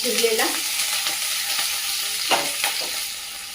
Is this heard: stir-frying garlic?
yes